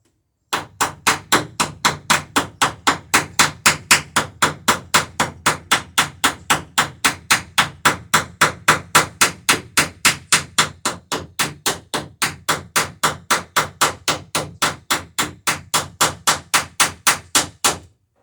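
Heavy gauge copper rivets in wooden dory planking are hammered in a long, steady series of sharp, evenly spaced metallic blows, close and clear, with no talk.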